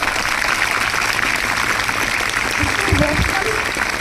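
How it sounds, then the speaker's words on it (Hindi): Loud, steady applause from an audience welcoming a district president as a guest at a ceremony for girl students at Rise International School, a dense continuous wash of clapping with a brief low thump of voices or movement near the end. "हम बहुत जोरदार तालियों से उनका स्वागत करेंगे"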